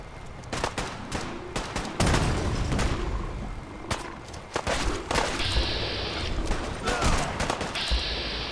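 Rapid volleys of gunfire crackle through a Fallout 4 battle, dense overlapping shots and booms with sharp individual cracks, loud and continuous throughout.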